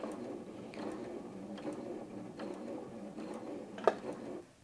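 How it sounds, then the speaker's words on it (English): A Janome M100 QDC sewing machine stitches fabric with a quiet, steady mechanical whir and soft rhythmic ticking, followed by a brief click near the end as it stops. "So if I go ahead and sew now,"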